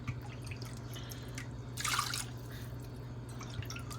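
Apple cider vinegar of 5% acidity is poured into a measuring cup in a home kitchen, a brief splashing gush of liquid rising over a low steady hum, with scattered small drips around it.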